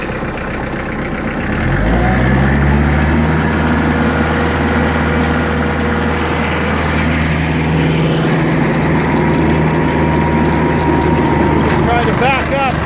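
A tractor strains to back up through deep snow after a run of winter storms, its engine a steady loud low rumble that swells as it works, with speech present over the droning machine.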